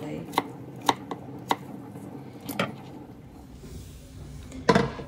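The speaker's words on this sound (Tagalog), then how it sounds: "hiwain lang po natin yung ating apple ng maninipis" A knife cuts an apple into thin slices on a board, giving a few sharp, irregular chopping taps spaced apart, with a final cluster of clatter near the end and quiet kitchen background between.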